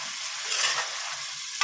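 Chopped tomatoes being stirred in a frying pan, giving a loud, continuous sizzle with scraping stir noises close up and a short knock at the end, with no talking.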